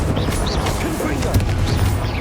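Confringo fire spell cast in Hogwarts Legacy: a loud, dense burst of fiery crackle and booming impact filling the short moment, layered over busy combat effects, with a voice calling out during it.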